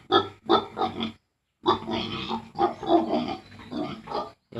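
A farm pig grunts close by in several bursts, with a short pause before the grunting resumes, loud and alone.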